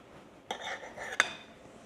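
A serrated knife cuts into a fall-spiced angel food cake on a plate: a sharp tap, about a second of soft, close rasping as the blade saws through, then a second brief clink, with no one talking.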